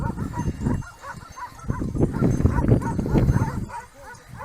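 Dogs guarding a small herd on a mountainside near Strymba peak barking and yipping in quick, uneven bursts at moderate distance, with some whimpering in between.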